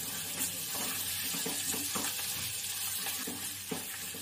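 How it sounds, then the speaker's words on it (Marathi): Goda masala spices frying in oil for an elephant yam curry, a soft continuous sizzle with faint stirring scrapes in a quiet kitchen. "मसाला सुद्धा आपल्याला तेलामध्ये परतून घ्यायचा आहे."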